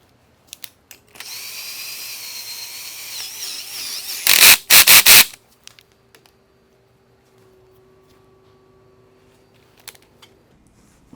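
Contact wheel being threaded on and tightened on a 2x72 belt grinder: a sustained whirring power-tool buzz, then a few loud bursts of driver ratcheting, followed by a faint steady hum and small clicks, close and without speech.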